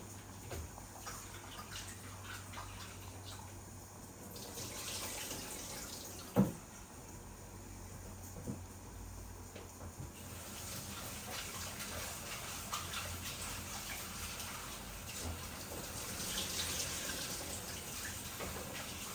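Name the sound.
water running while washing fish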